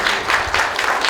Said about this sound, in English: Nice round of applause for Bill.